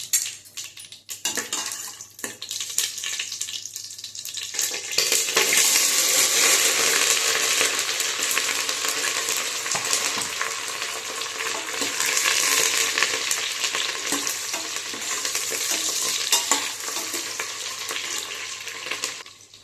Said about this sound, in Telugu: కొద్దిగా ఆవాలు, కొద్దిగా పచ్చిమిరపప్పు వేసుకుందాం, లవంగాలు కానీ వేసుకుందాం.